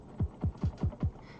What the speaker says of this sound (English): Already sounds like a kick